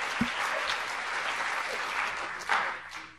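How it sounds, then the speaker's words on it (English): An audience at a student cryptocurrency trading event claps for the presenters, a thick, even wash of applause that holds steady and swells briefly near the end. "let's give everybody a round of applause who presented for all the hard work they put in"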